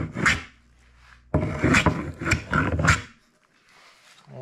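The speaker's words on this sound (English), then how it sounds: "Once again, 32-inch scrub joiner comes out." A 32-inch scrub joiner plane works a wooden round tabletop, giving a few rough rasping strokes, fairly close and moderately loud, separated by short quiet gaps.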